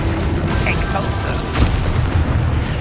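A booming Exposo explosion spell from Hogwarts Legacy blasts in a dense, roaring wall of noise with a brief sharper burst midway, loud throughout over game sound, with a voice calling out as the spell is cast.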